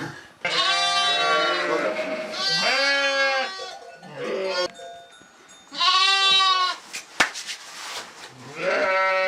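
Several lambs bleat in long wavering calls, one after another, close by, with a sharp knock partway through.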